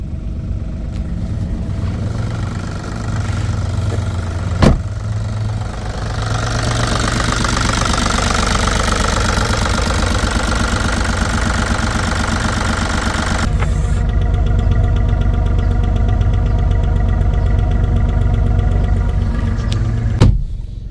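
A Mk1 Skoda Fabia 1.4 TDI PD80 diesel engine idles loudly and steadily close by, a rough continuous rumble broken by a couple of sharp clicks.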